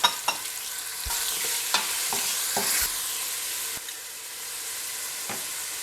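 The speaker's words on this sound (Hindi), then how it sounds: "अब इसमें हरा प्याज डाल देते हैं। थोड़ा सा मिक्स करेंगे।" Green onions are stirred into a sizzling pan: a steady frying hiss broken by several sharp scrapes and knocks of a utensil against the pan, with no one speaking.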